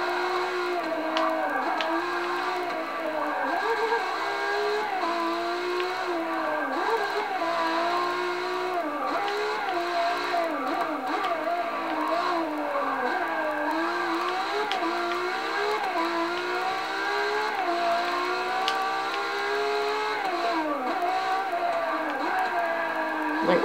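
A Ferrari LaFerrari's engine screams continuously around a track in Forza 6, rising and falling through gear changes and revs with a steady loud drone.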